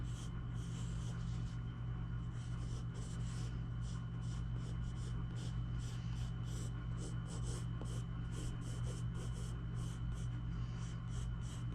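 Colored pencil shading hair in big blocks on paper: soft, close, repeated scratchy strokes in quick rhythmic bursts over a steady low hum, no talk.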